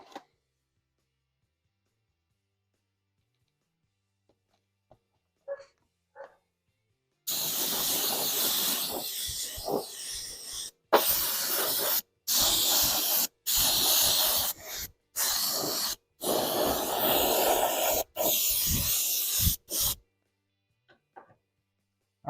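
An R/C car body is spray painted with an aerosol can in a run of hissing bursts after a quiet start, some long and some short, separated by brief pauses.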